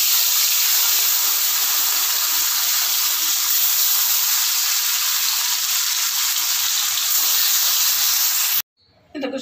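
Small rohu fish frying in hot oil in a kadai, a loud, continuous crackling sizzle that holds steady for several seconds and then cuts off abruptly.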